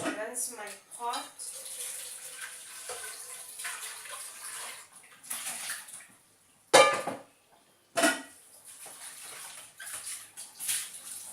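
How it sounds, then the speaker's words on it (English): A cooking pot is rinsed under a running kitchen tap, the water rushing and splashing against the metal in bursts, with a few sharp clanks of the pot, while a person speaks over parts of it. "Just want to rinse my pot."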